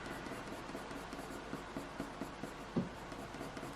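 Faint scratchy strokes of a coloured pencil drawing grass on paper, quiet repeated short scribbles with one slightly louder stroke, no talk.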